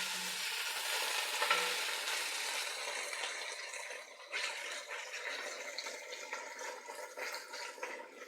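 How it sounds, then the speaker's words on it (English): Spoon stirring a mushroom and beef stew in a pot, a steady scraping and bubbling swish with faint sizzle throughout, close and fairly quiet, no talking. "And we'll get a spoon in here. Kind of move things around."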